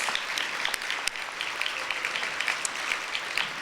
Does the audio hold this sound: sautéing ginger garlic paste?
no